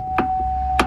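Heavy door of a 2003 Chevy SSR convertible truck shutting, giving two close, sharp clunks about half a second apart, each brief and solid with no talk around them.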